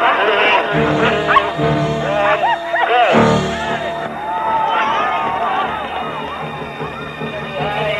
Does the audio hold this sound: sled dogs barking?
yes